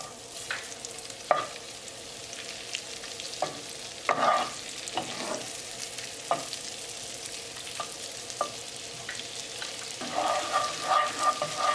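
Garlic sizzling in melted butter with a splash of olive oil in a pan, a steady soft frying hiss broken by intermittent stirring scrapes and taps.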